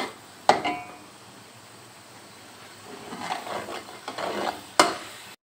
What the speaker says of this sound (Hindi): अब इसको थोड़ा सा भूनेंगे हम, यानी फ्राई करेंगे इसके अंदर